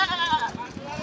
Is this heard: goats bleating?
yes